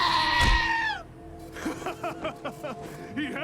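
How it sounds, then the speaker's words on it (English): A goat in the Wasteland 2 video game gives a loud, wavering bleat up close in the first second, followed by quieter voices talking. "Crazy goat just right freaking smacked me in the butt."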